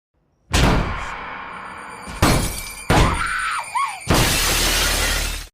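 Glass from a bathroom window shatters in a horror film, a loud crash at the start followed by further violent smashes, thuds and scattering debris over several seconds.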